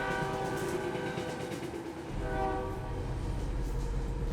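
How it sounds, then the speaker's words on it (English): A train horn sounds steadily over the deep rumble and rattle of rail cars passing close by, continuous and fairly loud, with no talking. "He never saw the train coming."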